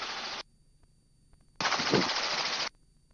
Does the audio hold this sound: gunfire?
yes